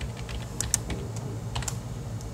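Typing a spreadsheet formula on a computer keyboard, a quick run of close, crisp key clicks over a low background hum, with no voice.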